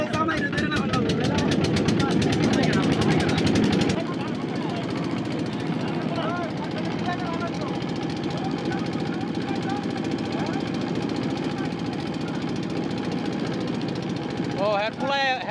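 The steady, rattling drone of a boat engine runs throughout a rainy picnic boat trip with school friends, loud and close, with a harsher chugging burst in the first few seconds.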